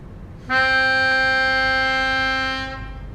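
A single sustained reed note from a melodica sounds steadily for about two seconds, bright and buzzy, then fades out with no talking.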